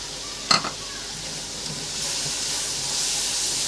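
Spices and green chillies fry in a pan for an aloo gobhi dish, an even close sizzle with a brief metallic clatter of a utensil near the start and the hiss swelling slightly toward the end.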